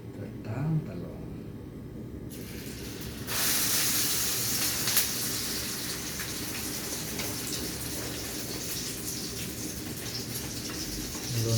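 Eggplant omelette, tortang talong, sizzling in hot cooking oil as a steady broadband hiss that jumps louder a few seconds in and keeps crackling, with a voice speaking over it.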